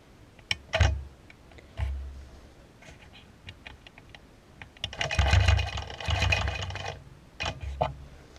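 A sewing machine stitches feathers on a quilt top in short intermittent runs of fast mechanical ticking, with one longer steady burst near the end, close and moderately loud.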